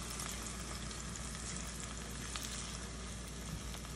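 Steady, dense sizzling of food frying in a hot pot, loud and close, continuing without a break and with no voices.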